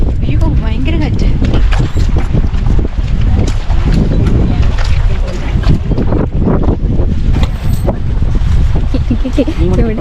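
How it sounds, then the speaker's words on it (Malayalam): Strong wind blasts across the microphone outdoors at the Akshardham temple grounds in the USA, a loud, continuous roar and buffeting that swamps everything else for the whole stretch. "ഭയങ്കര കാറ്റ്"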